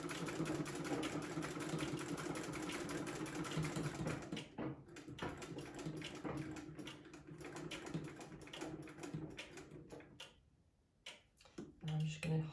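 A domestic sewing machine with no reverse stitches across a pillowcase tote bag, a quiet, rapid mechanical whir with ticking that pauses and restarts, under faint nearby talk.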